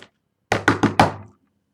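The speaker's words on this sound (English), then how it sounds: "A loud knock on the front door caused both of his feline ears to face in the direction of the sound." Four loud, quick knocks on a front door, sharp and close in a steady rapid rhythm, standing alone against an otherwise quiet room.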